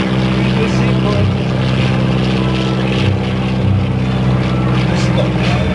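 A Fieseler Storch propeller plane flies at the Ferté-Alais airshow, and its engine drone with propeller buzz stays loud and steady the whole time, with a crowd murmuring faintly underneath.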